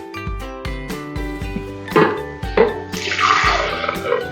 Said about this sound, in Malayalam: പാലൊഴിച്ച് കൊടുത്തിട്ടുണ്ട്.